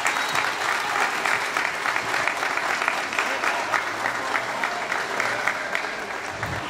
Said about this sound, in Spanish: Yo quiero pedirles un fuerte aplauso a mis compañeros bibliotecarios